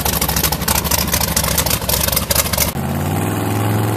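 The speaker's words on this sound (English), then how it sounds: "Start up the engine." Car engine starting up for the ride home, loud rough churning that cuts off abruptly and settles into a steady idle hum.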